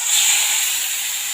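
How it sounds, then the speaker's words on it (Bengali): Rui fish frying in hot oil gives a steady, bright hiss that holds evenly through the whole short moment, with no voices over it. "তেল ভালোই গরম হয়ে গেছে মাছগুলো আমি পরপর দিয়ে দেবো"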